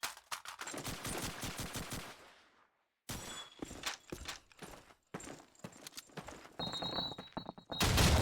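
Rapid bursts of automatic gunfire and single shots rattle in clusters, then stop for a brief silence before more shooting and grenade blasts, in a competitive Call of Duty 2 finals match.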